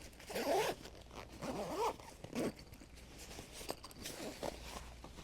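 Zipper of a medium packing cube run in quick, close bursts: three sharp zips in a row, then softer fabric rustling and a couple of fainter tugs.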